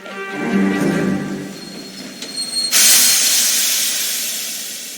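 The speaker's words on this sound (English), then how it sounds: "They get a fast train to London." A steam train rumbles in, then a loud hiss of released steam bursts out and slowly fades. Whistle-like tones ring through it, with no talking.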